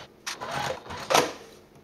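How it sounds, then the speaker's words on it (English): Sewing machine top stitching a wallet piece at 1/8 inch to baste it in place, heard as two short whirring runs, moderately close and alone. "I'm going to top stitch this just to baste it into place at 1/8 of an inch."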